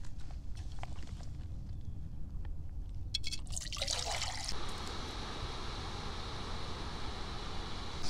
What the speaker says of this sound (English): I just pour it right out of here into the pot.